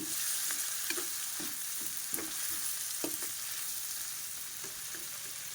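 Meat stirred into sautéing garlic, onion and chopped tomato for pakbet, a constant pan sizzle punctuated by regular scraping strokes of a spatula, close and steady with no talking.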